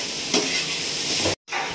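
Soybean chunks fry with salt and turmeric in a pan, giving a continuous sizzle with stirring scrapes, close and steady apart from a brief cut near the end.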